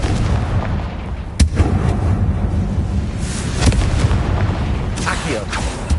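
Blasting-spell explosions in a Harry Potter video game, heavy booming blasts with a sharp crack near the start, layered over constant loud rumbling battle noise.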